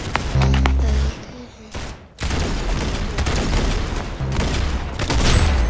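Video game gunfire rings out in rapid, loud bursts close by, with dense volleys and heavy booms filling the whole stretch.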